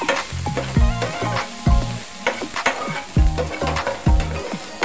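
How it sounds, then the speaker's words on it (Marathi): Freshly washed, still-wet spring onion greens spatter and sizzle in hot oil. Sharp crackles and pops burst in quick clusters over a steady frying hiss, close and fairly loud, with the metallic knock of a utensil stirring the pan. "धुवून घेतली पाती आणि डायरेक्ट टाकली तेलामध्ये, तर उडणारच आहे ना ऑब्विसली"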